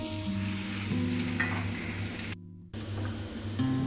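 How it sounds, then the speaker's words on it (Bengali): Minced garlic and ginger frying in hot oil in a wok for chilli chicken, a loud continuous close sizzle with a brief silent gap midway before the sizzling resumes. "কড়াইতে তেল ছিল তার মধ্যেই রসুনের কিমাগুলো দিয়ে তিরিশ সেকেন্ড এটাকে একটু ফ্রাই করে নিচ্ছি"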